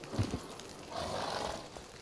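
Roach, Geralt's horse in The Witcher, gives a brief snort and a few low hoof thuds, faint and close, followed by a soft breathy neigh.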